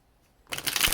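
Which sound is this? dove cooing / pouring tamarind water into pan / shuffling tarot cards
shuffling tarot cards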